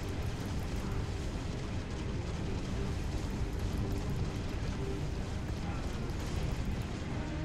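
Continuous dense rumbling blasts and booming battle noise from the video game Halo: Reach, loud and unbroken throughout, with players talking over it.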